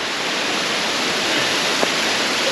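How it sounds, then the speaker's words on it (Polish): A waterfall in Ordesa y Monte Perdido National Park roars as a continuous, dense rush of falling water, close and steady throughout with no voices. "Mamy pierwszy wodospad."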